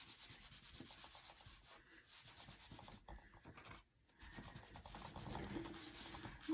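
A cloth rubs stain back and forth across a wooden frame in steady, rhythmic, close-up strokes, a dry scratchy swish that pauses briefly midway before continuing.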